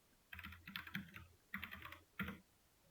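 Commands typed on a computer keyboard during a Linux lesson: quick bursts of clattering keystrokes in three short runs, close and fairly quiet, with no talking.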